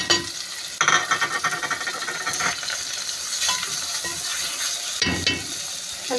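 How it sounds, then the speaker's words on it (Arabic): Food frying in a pan with spices, black pepper, cinnamon, coriander and salt, is stirred, giving a steady close sizzle broken by several sharp scraping stirs and clinks of the utensil. "قلبي بقى كده بالتوابل حوالي 10 دقايق"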